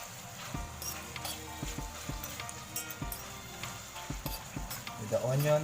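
Beef bistek sizzles in a pan at steady close range, with a few scrapes and clinks of a utensil stirring the meat and the frying hiss continuing throughout.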